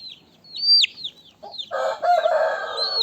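A big-headed Indian rooster crows nearby, with short squeaky calls and clucking around a raspy crow, no talk.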